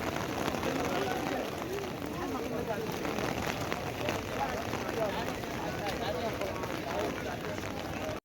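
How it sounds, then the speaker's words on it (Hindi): Steady rain falling in Makkah outside the Haram, a continuous hiss and patter on hard surfaces with faint crowd murmur in the background. "आप लोग बारिश की आवाज़ सुने और थोड़ा सा मंज़र से लुत्फ़ अंदोज़ हों"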